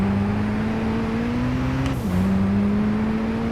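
A race car engine in Gran Turismo 5, a loud sustained drone whose pitch climbs steadily, drops sharply with a brief whoosh at a gear change, then climbs again.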